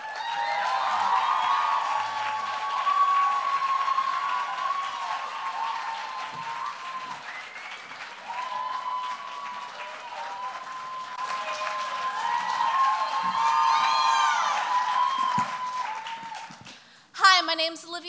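Sustained audience applause for a poet at a poetry slam, a dense wash of clapping that swells and dips over many seconds, with scattered cheers and faint voices mixed in before it abruptly cuts off.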